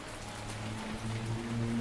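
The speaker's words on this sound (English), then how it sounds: "The rain was pouring." Heavy rain pours steadily onto surfaces nearby, a continuous dense hiss that grows slightly louder toward the end, with no voices.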